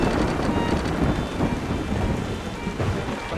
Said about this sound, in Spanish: Aquí viene un trueno con todo el barco